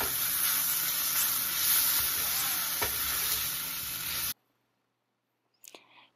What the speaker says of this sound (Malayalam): മഞ്ഞൾപ്പൊടി ചേർത്തിട്ട് ഈ സവാള നന്നായി ഒന്ന് ഇളക്കി കൊടുക്കുക.